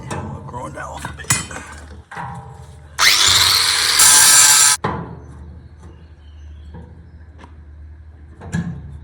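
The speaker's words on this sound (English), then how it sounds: "I'll grind that off a bit." A loud, steady angle-grinder whine runs for about two seconds, grinding a weld off a Kubota in an amateur repair, with quieter clunks and handling sounds before and after.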